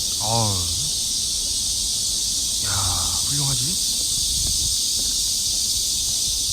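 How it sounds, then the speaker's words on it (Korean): Cicadas drone in a loud, steady, high-pitched buzz that runs throughout, while people talk and laugh in the foreground. "매미의 목소리를 이겨보자"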